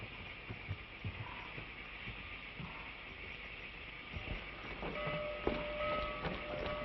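A train rumbles along steadily at a distance, a low continuous clatter with faint whistle-like tones drifting over it.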